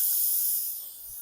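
A short, steady airbrush spray hisses close by, softening slightly toward the end, as overspray is cleared from around an eyebrow.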